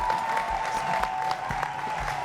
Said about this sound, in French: Applaudissez pour papa,